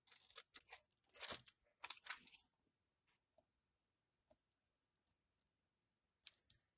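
Scissors trim cardstock for a handmade ephemera card: a run of quick, close snips in the first few seconds, then sparse faint clicks and pauses.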